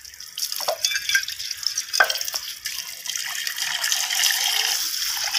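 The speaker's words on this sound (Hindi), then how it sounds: "टूटी का पानी भी मेरा गर्म पड़ा है" Tap water running steadily from a household faucet, fed hot from a rooftop tank, with a constant splashing hiss and a few sharper drips near the start.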